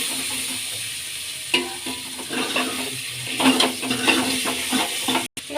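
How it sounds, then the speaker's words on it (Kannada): Onions stirred and fried in a pan for a curd kadhi, a steady sizzle under scraping spoon strokes and a few clinks of utensil against the pan. "ಈರುಳ್ಳಿ, ಚೆನ್ನಾಗಿ ಮಿಕ್ಸ್ ಮಾಡೋಣ."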